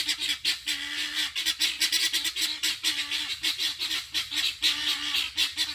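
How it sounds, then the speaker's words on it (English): Free range turkey and guinea fowl call in a garden, a steady run of loud, close, harsh honking cries repeating rapidly throughout. "Free range birds."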